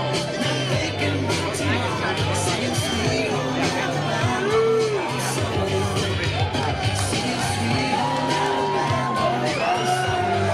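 A packed crowd of fans at the Iowa versus Iowa State football game whoops, yells and cheers as President Trump arrives, a dense continuous roar with shouts rising over steady chatter nearby.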